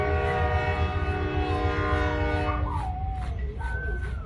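A train rumbles past close by, sounding its horn in a long sustained blast while rail noise continues; a dog's howl rises near the end.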